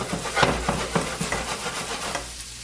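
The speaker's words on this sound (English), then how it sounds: "at the same time that your butter is cooking, you want to throw in your onions." Onions cooking in butter in a pan for an omelette, with a steady close sizzle broken by several scraping stir strokes, no voices.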